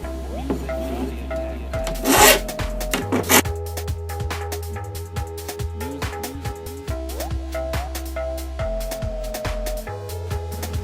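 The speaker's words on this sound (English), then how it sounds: "Now I'm going to use this file to clean up the edges." A metal file is drawn by hand along the edges of a homemade spear blade in a workshop, making repeated short rasping strokes at close range with an irregular rhythm and no talk.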